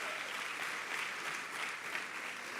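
A church congregation applauds together, producing a dense, continuous wash of clapping that holds at an even level throughout.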